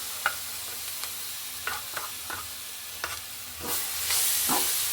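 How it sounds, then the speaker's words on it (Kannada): Mango puree for laddu fries in ghee while being stirred nonstop, a close stream of light scraping strokes over a soft sizzle that swells into a louder, hissing fry toward the end. "ಮಾವಿನ ಹಣ್ಣಿನ ಪ್ಯೂರಿ ಹಾಕಿದ್ಮೇಲೆ ಬಿಡದೆ ಕೈ ಆಡಬೇಕು"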